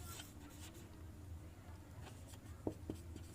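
A question being written on a board during a reasoning class, heard as faint, quiet scratching strokes with a couple of light taps near the end, and no speech.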